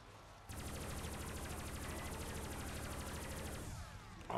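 Vepr gun in a Call of Duty zombies game firing one unbroken, very rapid stream of shots for about three seconds, fairly quiet and even, then cutting off.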